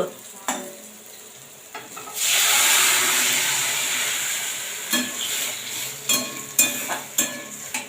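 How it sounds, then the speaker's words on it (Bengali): Loud sizzle of bitter gourd frying in a pan, rising sharply then fading, with spatula clinks and stirring knocks scattered through. "এদিকে তার উচ্ছা ভাজা হয়ে যাচ্ছে।"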